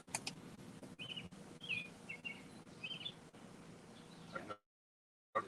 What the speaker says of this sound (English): our live audience can hear all the nice birds tweeting